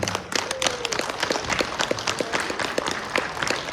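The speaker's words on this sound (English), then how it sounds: "Such a small smattering of applause for yourselves." A small crowd claps in scattered, uneven applause that carries on steadily for a few seconds at moderate volume.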